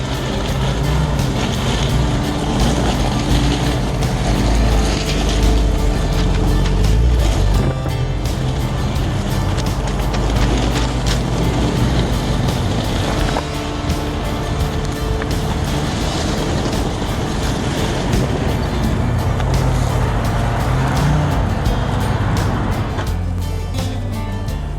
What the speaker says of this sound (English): hope you enjoyed that test drive in this Willys